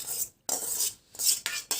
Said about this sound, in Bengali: এইবার আমি এখানে সিদ্ধ করে ঠান্ডা করে রাখা পাস্তাটা দিয়ে দিচ্ছি।